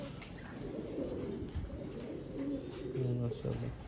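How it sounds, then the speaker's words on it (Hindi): Pigeons coo softly on a sunny rooftop, a few low, throaty calls rising toward the end over a fairly noisy outdoor background. "कबूतर दोस्तों मेरा छत्त वाले जो कोई फेवरेट है तो यह कबूतर है"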